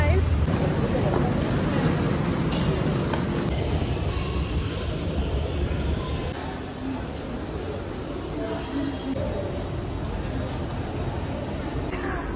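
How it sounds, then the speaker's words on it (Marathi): A metro train pulls into a crowded station platform, a loud rumbling rush of wheels and motor that gradually settles, with crowd babble and speech mixed in. "सो मेट्रो आलेली आहे"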